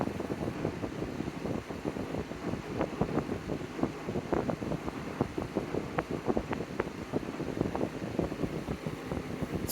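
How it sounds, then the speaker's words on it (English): An electric fan runs at full power, a steady whooshing airflow with buffeting wind noise on the microphone, fairly quiet and continuous with no talk. "Besides this is probably the quietest fan I own."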